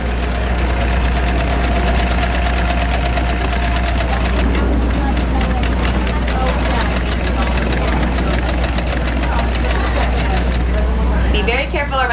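A sewing machine stitches crepe fabric on a crafts stage at World Maker Faire. Its rapid, evenly spaced clatter runs for several seconds over a loud, constant hall hum, with voices around it.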